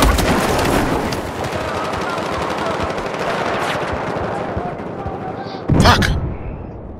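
Sustained machine gun fire rattles in Battlefield 4, a dense, continuous burst of rapid shots that thins out before a single sharper boom near the end.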